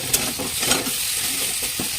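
Chicken fries in spicy oil with a brief, close, steady sizzle and a couple of soft stirring scrapes, and no voices.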